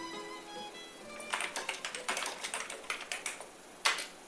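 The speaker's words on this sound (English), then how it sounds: "And if the keyboard works too." Fingers type on an Amiga 500 keyboard, a quick irregular burst of crisp plastic key clicks close to the microphone, preceded by a faint electronic tone and ending with one louder tap.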